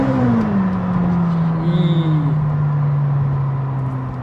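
A 2021 McLaren 720S Spider accelerates hard, its engine making a loud, close, continuous roar with a pitch that climbs and then holds steady through a long pull, with no talk.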